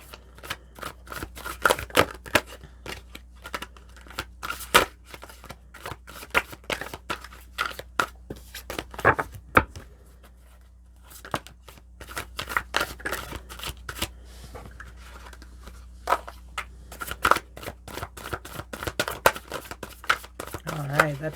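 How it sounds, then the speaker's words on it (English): Tarot cards being shuffled during a Taurus monthly reading: dense, rapid riffling and flicking bursts that go on throughout, close and fairly loud, with a steady low hum underneath. "Oh, I love these cards. They shuffle so nice."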